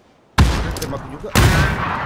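Gunfire in the battle-royale game PUBG on PC, two loud bursts with a sharp onset, one near the start and another about a second later, with sustained noisy decay between them.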